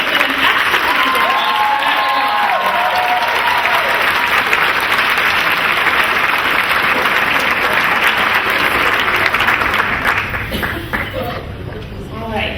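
An audience applauds at an awards evening: a dense, steady wash of many hands clapping that carries on for several seconds, with a few voices calling out over it, before it thins and tapers off near the end.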